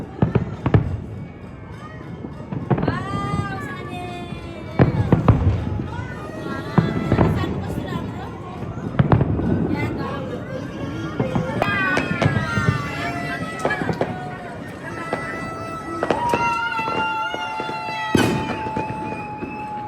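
New Year fireworks and firecrackers burst repeatedly. Sharp cracks and bangs sound at irregular intervals, mixed with rising whistles, while people talk and call out nearby throughout.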